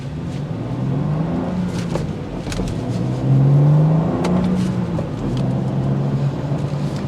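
A 2024 BMW M2 manual coupe accelerates hard from 0 to 60, its engine note climbing steeply in pitch with a brief pause at a gear change before rising again, loud and close.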